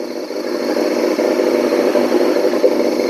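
A 2000 Yamaha R6 sport bike, bought abandoned, idles while warming up with a steady, even mid-pitched engine hum and no revving, close and fairly loud.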